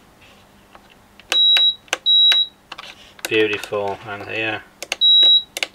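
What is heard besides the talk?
multimeter beeping while testing turntable connections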